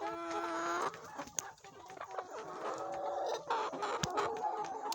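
Hens about to start laying cluck and cackle close by in a busy, uneven chorus, with a few sharp peaks standing out.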